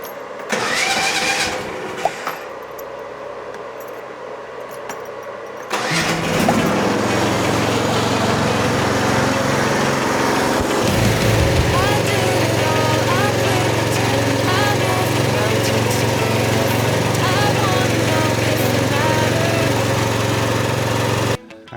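A 13.5HP Briggs engine on a mini excavator cranks, catches and settles into a loud, steady mid-pitched running drone close by, with a voice briefly heard near the start.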